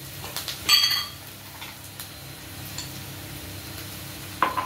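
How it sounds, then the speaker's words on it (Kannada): Ginger garlic paste frying in a pan, a low steady sizzle with a spoon scraping and clinking against the pan near the start and once more at the end, no talk. "ಇವಾಗ ಫ್ರೈ ಆಗಿದೆ, ಶುಂಠಿ ಬೆಳ್ಳಿ ಪೇಸ್ಟ್ನ ಹಾಕ್ಕೊಳ್ತೀನಿ ನಾನು."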